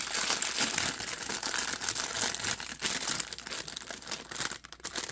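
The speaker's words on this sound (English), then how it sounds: "Sorry about the crinkle, y'all." A cardboard product box with its plastic packaging crinkles and crunches steadily up close, with no talk, the rustling continuous with small dips throughout.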